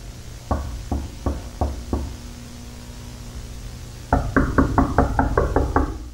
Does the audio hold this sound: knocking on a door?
yes